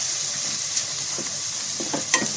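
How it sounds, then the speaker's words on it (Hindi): Ginger and garlic sizzle in a hot pan with a steady hiss, broken by a few soft scraping stirs near the end. "अच्छी तरह से अदरक लहसुन भून जाए इतना हमको इसको चलाते रहना है।"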